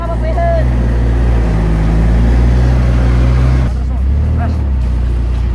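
Truck engine straining as it tows a vehicle out of lahar sand near Mt. Pinatubo, a loud steady low rumble throughout that shifts in pitch near the end, with people talking over it.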